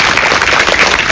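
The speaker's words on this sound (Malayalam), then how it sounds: "ടീം എ മാത്രം ഒന്ന് കൈയടിക്കോ?" Members of one team clapping together at a chartered accountancy convocation and felicitation event, a brief, loud, continuous patter of many hands.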